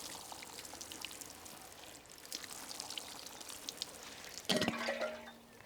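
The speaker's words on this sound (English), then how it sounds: "I'd always recommend watering your compost prior to putting the seed in" Water poured onto compost in a seed tray before sowing sweetcorn, a soft steady trickle with a louder splashing burst near the end.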